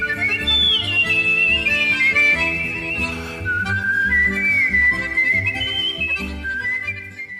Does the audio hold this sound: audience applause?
no